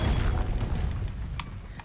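Confringo spell explosion in the Hogwarts Legacy video game: a deep, booming burst with a heavy low rumble that rolls on, with a couple of faint crackles trailing near the end.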